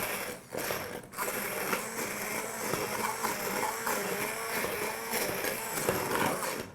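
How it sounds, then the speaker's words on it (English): An immersion blender whirs steadily through homemade garden tomato sauce, a close, continuous mechanical buzz with slight churning variations and a brief dip near the start. "I'm just going to take the immersion blender and blend it."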